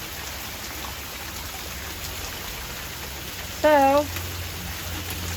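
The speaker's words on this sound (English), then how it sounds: "we're finally getting a little bit of rain out here. A nice good rain." Steady rain falls outdoors near a fruiting mango tree, a constant soft hiss throughout with one brief spoken word near the end.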